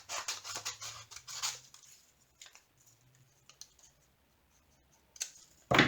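Scissors snip through paper to cut out a diamond painting label, a cluster of crisp, close cuts and rustling up front, then sparse faint clicks and handling over near silence.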